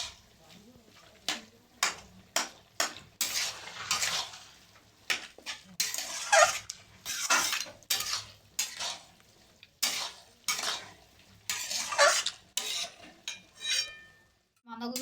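Cabbage is stir-fried with spices in a pan without water, a long run of irregular scraping and clattering strokes, close and fairly loud, separated by short pauses over a faint background sizzle.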